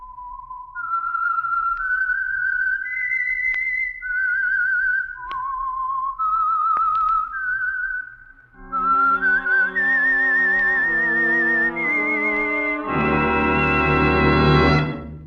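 A clear whistled melody, the opening theme of the vintage radio drama The Whistler, rises and falls alone, then other tones join in and swell into a fuller, louder chord at the end.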